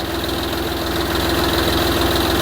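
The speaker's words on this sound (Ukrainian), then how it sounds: "ми завели тракторець" A YTO 244 small tractor engine idles close by with a rapid, even chugging pulse and a steady mechanical hum, no voices.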